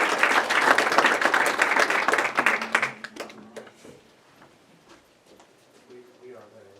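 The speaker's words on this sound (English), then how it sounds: "let's give them a round of applause" Loud, dense applause from a room of attendees at a school board meeting, lasting about three seconds before fading quickly. Scattered claps and talking voices follow.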